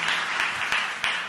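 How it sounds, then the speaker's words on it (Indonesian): An audience at a talk show gives a short burst of hearty applause, dense clapping lasting about a second and a half. "Tepuk tangan yang meriah"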